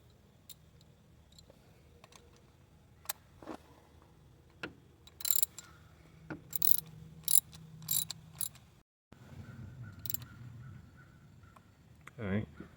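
Ratchet wrench clicking while tightening a spark plug on a Nissan VQ35 engine, with sparse quiet clicks and a few brief louder ratcheting bursts, heard close and faint.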